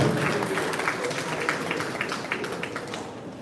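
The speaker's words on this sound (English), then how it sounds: "Please, let's give them a bigger round of applause." An audience claps at the commissioning of the Parliament of Ghana museum, a dense, steady burst of applause that fades slightly toward the end, with voices mixed into the crowd.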